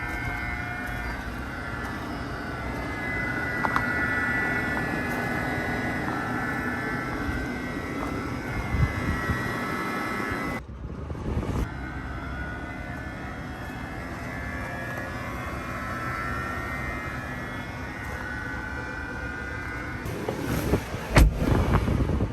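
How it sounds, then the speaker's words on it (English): A steady broadband whir and hum of a 2021 Jeep Wrangler 4xe Unlimited Rubicon's air conditioning runs continuously, heard from outside, fairly faint, with a brief dip midway and a few clicks near the end. "Let's kind of go here from the outside what it sounds like when the AC is on."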